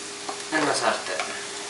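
Leeks, potatoes and smoked bacon sizzle in a frying pan, a short close burst of crackling with a brief stirring scrape, no voices.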